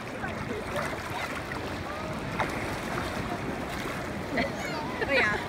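Ocean waves on a beach roll and wash in a continuous broad rush with wind buffeting the microphone, a few brief louder surges near the end, and no clear talk.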